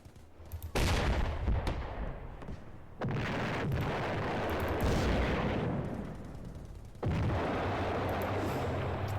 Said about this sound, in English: so these are main artillery guns